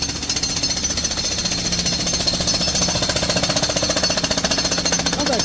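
A jackhammer pounds on a New York City street, loud and close, a rapid steady hammering that runs unbroken for several seconds with city noise around it.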